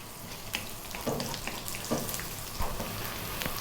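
Chopped onion frying in a pan for a vegan carrot curry, a soft, steady sizzle running throughout with a few faint clinks and stirs, no voices.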